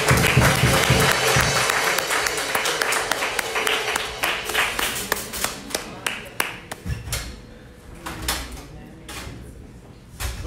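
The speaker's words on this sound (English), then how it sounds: "Give the Lord a hand clap of praise this morning." A church congregation claps hands in praise, with dense, loud clapping at first that thins into scattered claps and fades over about ten seconds.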